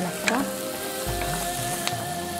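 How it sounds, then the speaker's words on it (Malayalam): Vegetables and tomatoes sauté in a pan for a wheat pasta with white sauce, giving a steady, close sizzle and crackle throughout, with a brief stirring scrape partway through. "ഇതൊന്ന് സോട്ടായിട്ട് നമ്മുടെ തക്കാളി ഇട്ട് കൊടുക്കാം."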